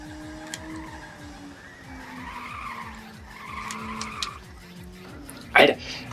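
A car drifts through corners in Ridge Racer on the PS1, with a steady engine drone and a long tire-squealing skid, ending in a sharp scrape near the end, while someone talks faintly underneath.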